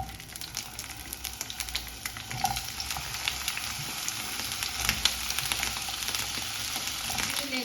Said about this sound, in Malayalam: എണ്ണ ചൂടായിട്ട് അതിലേക്ക് എടുത്തു വെച്ച വഴുതനങ്ങ ഇട്ട് കൊടുക്കാം.